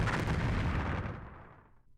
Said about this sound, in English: they should appear over there in a big explosion.